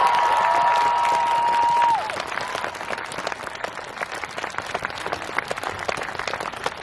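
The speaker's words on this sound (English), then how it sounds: "Give yourself a round of applause for being here for the start." Dense applause from a crowd at an outdoor Black Lives Matter rally in Edinburgh, sustained and fairly close, with a brief tone fading out early on.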